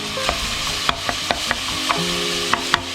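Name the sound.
frying pumpkin soup ingredients in a pan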